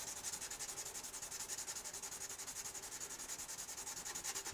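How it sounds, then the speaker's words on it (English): Steady rhythmic scratching of sandpaper rubbed back and forth by hand on the binding of a Gibson J-40 acoustic guitar, close up and continuous, with fast even strokes throughout. "I'm just sanding the binding right here now."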